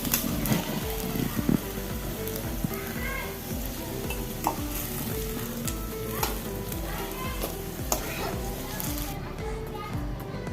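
Potatoes fry in a pan for a capsicum dish, with a steady sizzle and occasional stirring scrapes under continuous talk and children's voices in the background.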